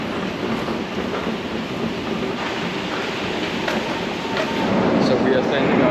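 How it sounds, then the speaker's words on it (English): A metro train pulling into Ploshcha Lenina station in Minsk, Belarus, a broad steady rumble and rushing noise that grows louder over several seconds, with underground platform echo and people talking nearby. "Our metro is coming"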